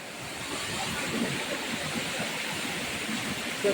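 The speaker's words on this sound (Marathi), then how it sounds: "जंगलातला धबधबा काढला का" A waterfall in a forest along the Panhala to Pawankhind trail, its rushing water a constant, dense roar from start to end, with no voices over it.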